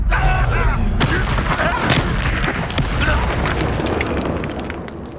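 Thunderous Bombarda spell explosions in Hogwarts Legacy during a fight, a big boom followed by crackling bursts and rumbling debris, loud and close throughout.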